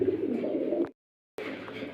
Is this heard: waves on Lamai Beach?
no